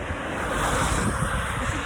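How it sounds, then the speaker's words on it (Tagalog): Strong, cold wind rushes continuously and loudly past the microphone outdoors in Germany, a steady broadband roar. "Kusog ang hangin diri in tawon."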